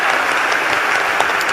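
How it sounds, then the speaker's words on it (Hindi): A seated audience at a religious discourse breaks into a short, dense burst of applause, loud and close, with many hands clapping at once. "वाह, एक बार ताली बजाओ।"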